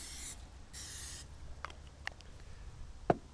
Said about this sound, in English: we're going to give both sides a nice little spray of the canola oil